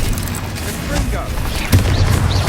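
A Confringo fire-blast spell cast in Hogwarts Legacy gives a loud booming burst amid dense, continuous battle noise, with a heavier low-end impact partway through and a voice shouting over the fight.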